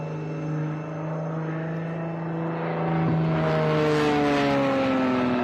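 A propeller-driven aerobatic aircraft pulls vertical and rolls at the Warriors Over the Wasatch air show at Hill AFB, its loud sustained engine drone shifting in pitch and swelling as it climbs overhead.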